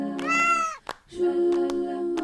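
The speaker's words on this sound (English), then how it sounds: "It's a kitty." A cat meows twice at close range, each call a clear drawn-out cry, the second longer and steadier, with a short gap between them and no talk over the top.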